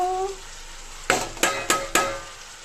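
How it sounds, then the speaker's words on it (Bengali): Sliced onion and green chili frying in a pan: four sharp spatula strokes in quick succession, each followed by a short hiss, after a brief faint tonal sound at the start. "এবারে এটা আস্তে আস্তে ভাজা হতে থাক"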